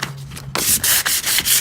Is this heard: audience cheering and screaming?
no